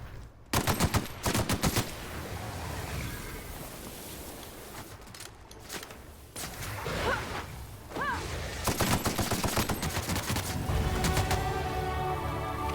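Enemy gunfire in the video game The Outer Worlds, with rapid bursts of shots early on and more sustained rattling fire later, over continuous game noise with no speech.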